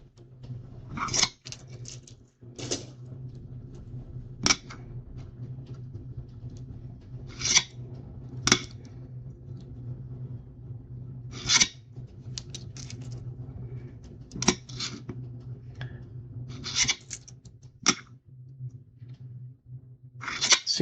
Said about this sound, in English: I kind of rub some of the dirt off